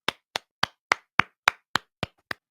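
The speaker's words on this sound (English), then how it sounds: "Let's all clap it up for Jerry." Nine single sharp claps spaced evenly about a third of a second apart, crisp and close, each ringing briefly in a quiet room, with no talking.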